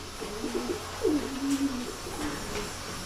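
Pigeons coo in an aviary, a few low soft throaty calls rising and falling over a steady background hiss.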